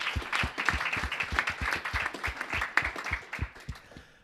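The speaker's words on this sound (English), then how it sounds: "A round of applause for both of them." A live audience applauds at an impact investing evening, a steady patter of many hands clapping close and loud for several seconds before tapering off, with no talk over it.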